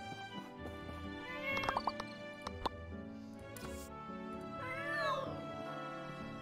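A cat meows repeatedly inside a video game, the mews drawn out and wavering over steady game music, with a louder, rising call near the end.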